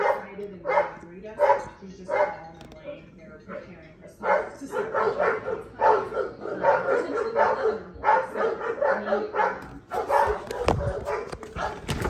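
Several dogs in a pack bark repeatedly and loudly, with yips and whimpers mixed in, while a person talks over them throughout.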